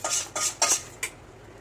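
A wok set down on a home kitchen stove makes a few sharp metallic clanks, four quick knocks close by, then quiet.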